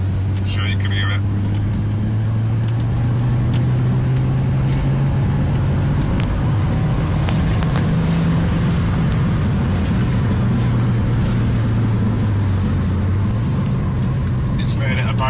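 A Peugeot 208 GTI fitted with a TMSR2 intake drones steadily from inside on a road test, a low, throaty engine note rising and easing with the throttle over constant road rumble, with no talk.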